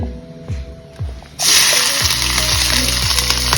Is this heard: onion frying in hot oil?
yes